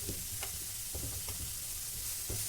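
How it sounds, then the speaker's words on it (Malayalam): Spices and garam masala are worked into a frying cabbage mixture with a soft, continuous sizzle and a few light scrapes and taps of stirring, quiet and close with no voices. "നന്നായിട്ട് മിക്സ് ചെയ്ത് കൊടുക്കുക."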